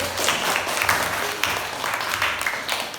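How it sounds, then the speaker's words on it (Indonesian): A classroom of students applauding a classmate, a brief burst of scattered, uneven clapping that stays close and moderately loud. "Tepuk tangan dulu Sige."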